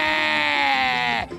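A person imitates a goat's bleat at a lively party, one loud, wavering, nasal bleat that is sustained for over a second and then cut off sharply.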